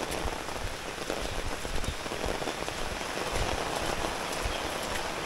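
Heavy overnight rain pours down in a dense, constant roar of drops on surfaces, loud and unbroken throughout.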